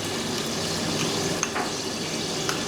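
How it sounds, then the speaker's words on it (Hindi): Tomato puree poured into a pan of frying potatoes, setting off a dense, close sizzle with a few faint clinks of a utensil against the pan, no talking. "अब मैं इसमें टमाटर प्यूरी डाल दूँगी"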